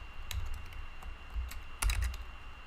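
Someone types a trace route command on a computer keyboard, producing soft, fairly quiet clicks and clacks in small irregular bursts with short gaps between them.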